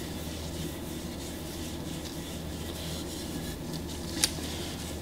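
Paper towels rubbing over a wooden rifle stock of a Glenfield Model 10 .22LR during gentle cleaning, a steady close-up scuffing that runs without pause, with one brief sharp tick near the end.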